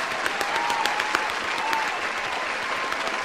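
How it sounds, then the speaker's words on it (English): A group breaks into steady applause, with dense, even clapping at a moderate distance throughout and no speech over it. "big clap for you."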